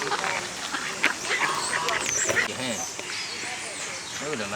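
Chinese geese honk and quack repeatedly nearby over steady crowd chatter and background noise, several calls overlapping.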